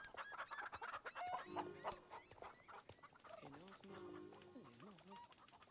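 Chickens cluck and squawk close by in a backyard coop, with a series of choppy, rising calls and sharp bursts of clucking coming in uneven clusters.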